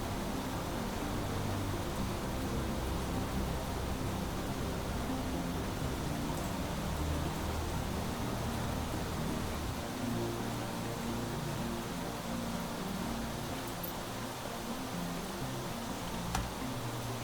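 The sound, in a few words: rain in the video game Planet Crafter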